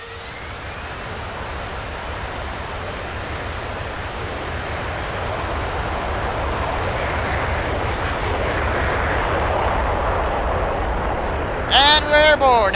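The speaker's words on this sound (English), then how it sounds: "F-22 is now airborne for the Scott Air Force Base." Simulated F-22 fighter jet taking off from Scott Air Force Base in X-Plane 11 during an airshow demonstration, a loud, steady engine roar that swells as it climbs, ending with brief high whistling tones.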